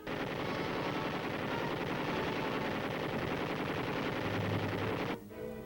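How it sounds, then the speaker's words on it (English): Machine guns firing live ammunition over soldiers crawling toward a finish line in army combat training, a dense continuous rattle of rapid bursts that cuts off abruptly near the end. "guns fire live ammunition over the heads of the men as they crawl 75 yards toward the finish line"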